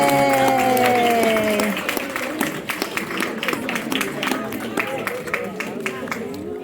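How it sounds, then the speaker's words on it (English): A crowd applauds and cheers, a dense patter of clapping filling the whole stretch, with voices mixed in at the start. "can we clap for Anthony"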